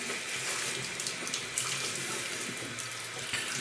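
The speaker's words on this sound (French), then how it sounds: "On va rincer la brosse." Tap water runs continuously as a shaving brush is rinsed under it, a close, even splashing rush with slight surges in the flow, fairly quiet overall.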